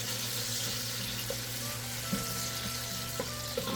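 Chopped onion and habanero pepper fry in a pan with a steady, soft sizzle and occasional light clinks of stirring, close and even, with no talk.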